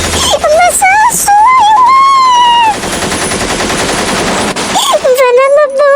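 A rapid burst of machine-gun fire rattles through an action movie scene, loud and close, with strained, shouting voices before and after the volley.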